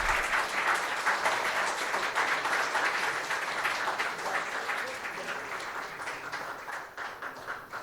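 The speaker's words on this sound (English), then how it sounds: "A round of applause, ladies and gentlemen." Audience at a museum book launch and special cover release applauds in a sustained, even crowd clapping that holds steady for several seconds before easing slightly, no voices over it.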